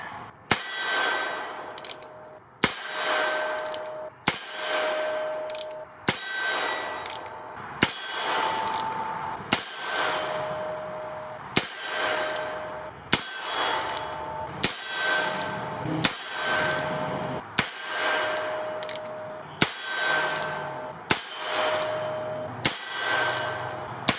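Heritage Rough Rider revolver shots ring off steel targets, about a dozen sharp cracks each followed by a metallic clang, spaced a second or two apart with no talk.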